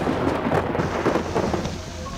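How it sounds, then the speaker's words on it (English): Thunderstorm with rain high in the Crazy Mountains: steady rain hiss with deep rolling thunder rumbles, loud and continuous throughout, no voices. "We wanted a storm, and we got one."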